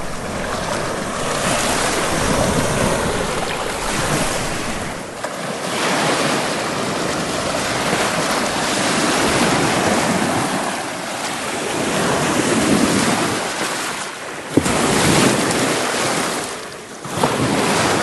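Strong wind gusts and breaking waves along the Lake Superior shore in Michigan's Eastern Upper Peninsula, a loud continuous roar of surf with buffeting wind across the microphone and no talking.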